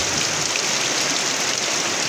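Steady rain falling in a village during a storm on a fishing trip, a dense, even hiss that holds without pause, loud and close, with no voices.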